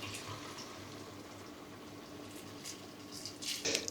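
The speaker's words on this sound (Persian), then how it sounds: "آب جوش رو بهش اضافه میکنم." Boiling water pours into a pot of Gilan-style ghormeh sabzi, a sour herb stew, over low heat: a steady close hiss and gurgle of liquid that swells louder near the end.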